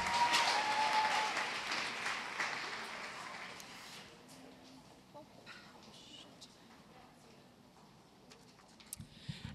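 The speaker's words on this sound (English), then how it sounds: "round of applause for them." Applause for a live stream sponsor at a business conference rises briefly and then fades to scattered, thinning claps, fairly faint and distant in a large hall.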